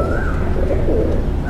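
A pigeon coos in a soft, rolling, continuous call, close and fairly loud, in one brief burst.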